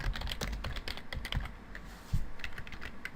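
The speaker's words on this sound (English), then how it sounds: "I'm going to type here to help." Steady typing on a computer keyboard, a quick run of close, crisp key clicks with uneven rhythm and a few louder strokes, alone with no talking.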